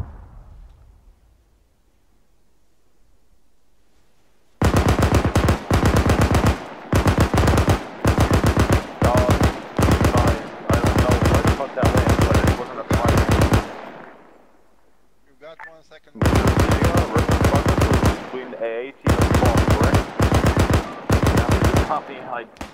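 Heavy automatic gunfire in the military simulator Arma 3: long, loud bursts in a steady rhythm, two separate strings of shots split by a short pause, close and dominant.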